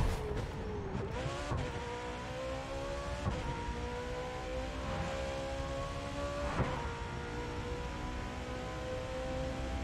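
Full-throttle engine roar of a McLaren 765LT racing along a country road in The Crew 2, a steady loud drone with rising and falling revs and brief gear-shift dips, continuous throughout.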